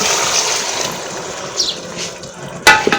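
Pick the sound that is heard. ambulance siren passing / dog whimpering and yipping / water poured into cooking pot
water poured into cooking pot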